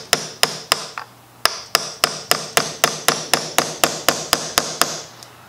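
Sixteen or so sharp, evenly spaced hammer blows drive slightly longer, headless replacement brads into the wooden cabinet of an antique Singer treadle sewing machine, each strike close and crisp with a short ring.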